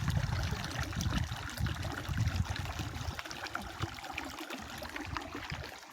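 Water flowing through a field irrigation ditch in scorching midday heat, a continuous nearby gurgle and rush that eases slightly and thins out in the second half.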